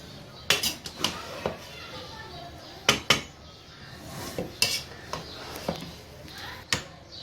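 Chicken biryani, made with eggs and potato chips, being mixed in a pot: a spoon repeatedly clanks and scrapes against the metal in an uneven series of sharp knocks over a steady background hiss.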